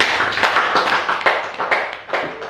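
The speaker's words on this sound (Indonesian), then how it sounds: "Aplaus buat kalian semua." Students in a classroom clap together, a short burst of brisk, uneven hand claps of moderate loudness, close and without talk.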